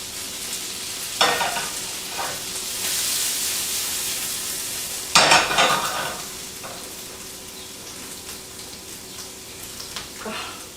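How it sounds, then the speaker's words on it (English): Artichoke bottoms sauté in a pan with a continuous close sizzle. Sharp bursts of stirring and scraping break in twice, and fainter utensil clinks follow. "The artichoke bottoms are browning."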